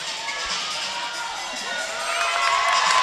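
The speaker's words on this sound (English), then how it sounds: "the whole crowd bringing the support just as much for this team here" A crowd cheers at an acrobatics and tumbling national championship semi-final between Oregon and Quinnipiac. The sustained roar is full of high shouts and whoops and swells louder toward the end.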